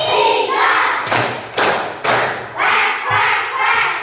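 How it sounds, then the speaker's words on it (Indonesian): In an elementary school classroom, children chant together and clap in time, with about three distinct sharp claps in quick succession, then more chanting with lighter hand taps. "Tepuk tiga."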